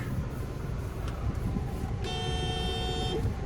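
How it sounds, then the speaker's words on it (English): A 2012 Honda CR-V EX-L car horn sounds once in a steady beep lasting about a second, over a low rumbling background. "There's the horn there."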